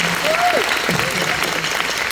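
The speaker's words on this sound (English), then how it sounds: "How about one last round of applause for Aiden?" Continuous crowd applause at a sports awards ceremony with a voice briefly heard over it, the clapping dense and even throughout.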